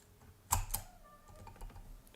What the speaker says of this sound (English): the whisk looking thing is for removing keycaps